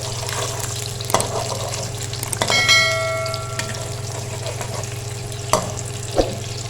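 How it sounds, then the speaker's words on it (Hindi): Eggs with broken yolks cooking in a pan for egg fried rice give a continuous close sizzle, with a few clinks of a utensil against the pan and a brief ringing metallic tone, no talking. "अब थोड़ा सा जर्दी को तोड़ देंगे इस तरह करके और थोड़ा सा इसको कुक होने देंगे।"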